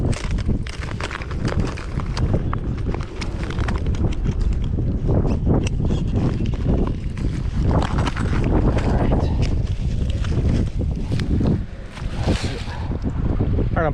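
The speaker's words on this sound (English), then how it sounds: "Here comes the wind." Strong wind buffets the microphone on a Lake St Clair shoreline point during bank fishing, a continuous loud roar with gusty surges throughout and no voices.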